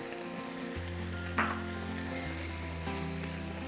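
Fried rice with oyster sauce and sriracha fries in a pan with lobster and lup cheong, a constant loud crackling sizzle with one brief stir near the middle, no voices.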